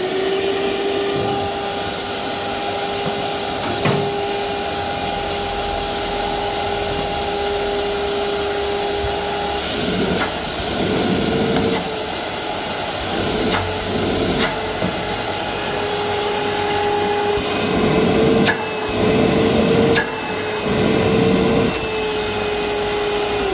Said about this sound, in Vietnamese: Con máy hút bụi của Ryobi anh em.